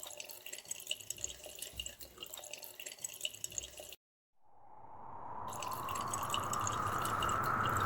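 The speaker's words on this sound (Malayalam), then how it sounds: "ഇതെന്തോ പിന്നെയും പിന്നെ തുറന്നു വരുന്നേ, ടാപ്പ് എന്തെങ്കിലും കംപ്ലൈന്റ് ആയി" Water runs from a faulty tap that keeps opening by itself, starting after a short silence and swelling into a steady, rising rush of flow into the basin, fairly faint overall.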